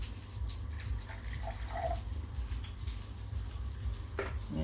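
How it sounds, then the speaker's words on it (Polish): Water poured from a canister into a container for an aquarium conductivity test, a soft steady trickling and dripping over low background hum, fairly quiet and continuous, with a brief splash near the end. "A teraz nalejemy prosto z tego baniaczka"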